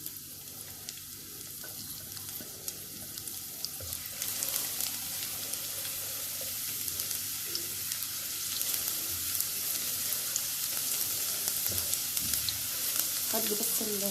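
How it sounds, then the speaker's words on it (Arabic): Chopped garlic sizzles and crackles steadily in a hot pan while being stirred, with scraping and clinks of the utensil and a faint trickle of water in the background. "هدي بس الثوم تقليبه كده"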